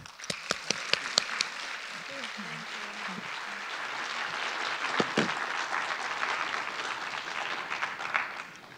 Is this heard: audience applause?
yes